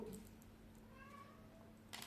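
A domestic cat meows faintly in the background of a quiet indoor room, a short soft call with a brief louder noise near the end.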